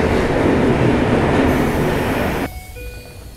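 A Keisei line train rumbles loudly past on the rails, a dense roar of wheels that drops off sharply partway through and leaves faint tonal squeals and hum behind.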